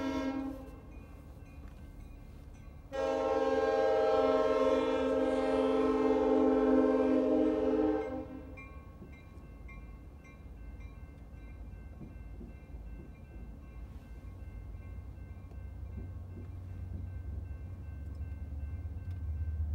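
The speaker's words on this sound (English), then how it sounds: "here comes the train" A train rumbles past close by, with a loud horn blast held for several seconds, followed by the low continuing roar of the passing cars.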